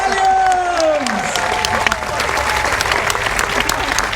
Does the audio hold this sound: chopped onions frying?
no